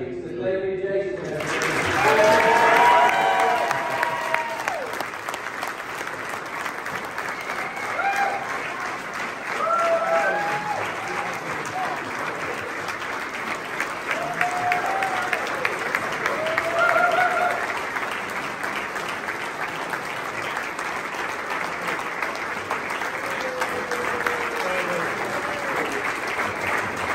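Sustained audience applause fills a convention hall in a long, dense wave of clapping that stays loud throughout, with faint crowd voices and cheers woven in.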